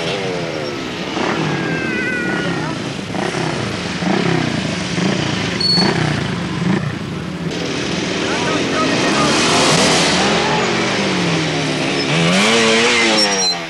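Motorcycles rev and rumble at the Moto Bastille weekly Friday-night gathering of young bike enthusiasts in 1972 Paris, engines rising and falling continuously and loudly, with a crowd murmuring beneath.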